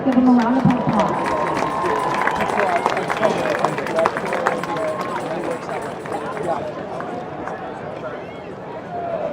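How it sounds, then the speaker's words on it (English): Stadium crowd at a high school football game applauds and cheers for cheerleaders, with sharp claps, whoops and general crowd noise that gradually thin out. "Let's give them a round of applause."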